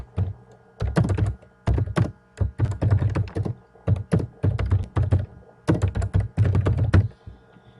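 Bursts of typing on a computer keyboard as a group name is entered, quick clusters of key taps separated by short pauses, close and clear with no talking.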